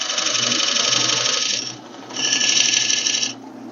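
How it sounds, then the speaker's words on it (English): A skew chisel, used as a scraper, rasps against a spinning wooden bowl on a lathe while forming a dovetail recess, two sustained scraping passes separated by a short lull, loud and close. "So I'm going to use my skew chisel to help me form that dovetail and get right down in the bottom there."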